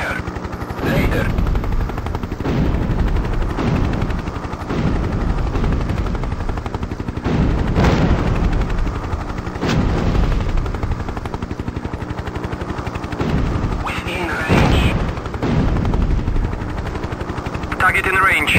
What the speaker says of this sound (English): Heavy ground fire.